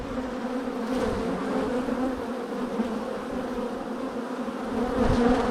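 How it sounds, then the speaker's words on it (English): Agitated honeybees swarm noisily out of an opened hive brood box, a dense, steady, close buzzing drone that swells slightly near the end. "those bees not as calm as the other ones"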